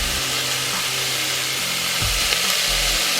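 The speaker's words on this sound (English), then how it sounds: "You can hear that sizzling there." Food sizzles and fries steadily in a hot pan while a slow-cooker lamb dish is being made, a constant close crackling hiss with low hum underneath.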